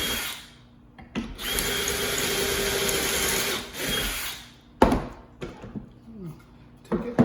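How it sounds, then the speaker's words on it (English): A drill runs steadily for a couple of seconds as a Kreg Jig bores pocket holes into the small sides of a wooden cornhole board, followed by a few short thunks and handling knocks, with no talking. "we're only going to put the pocket holes in the small sides of the"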